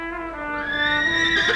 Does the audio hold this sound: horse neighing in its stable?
yes